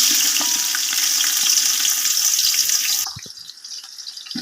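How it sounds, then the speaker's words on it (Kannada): Onions with whole spices such as cinnamon and cloves frying for mutton biryani, a loud dense sizzle close by that drops sharply after three seconds into a quieter crackle with a few knocks. "ಈಗ ಸ್ವಲ್ಪ ಫ್ರೈ ಮಾಡ್ಕೊಳ್ಳೋಣ"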